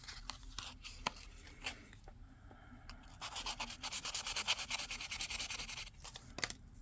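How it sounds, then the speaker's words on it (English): Wet/dry sandpaper being rubbed by hand, a soft, steady scratchy rasp that starts quietly with scattered taps and becomes a rapid rhythmic back-and-forth scrubbing in the second half, close and fairly quiet. "I may speed up this sanding."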